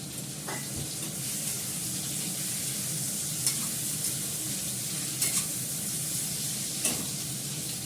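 Thinly sliced onion frying in a pan, a constant close sizzle with soft stirring scrapes and a few sharper clicks of the utensil against the pan, no voices.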